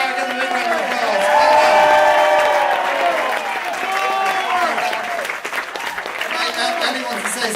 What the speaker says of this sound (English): Saoirse, Ellen and Keelan, take a big bag and a big round of applause